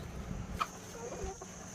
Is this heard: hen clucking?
yes